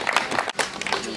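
Applause for the winners of a fishing contest on Darłowo beach, a crowd clapping briskly outdoors for just over a second while voices talk over it.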